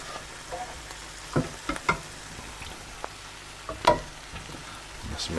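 Curry base poured into a pan of frying chickpea masala, a soft steady sizzle with several louder splashes and stirring scrapes, close and fairly quiet.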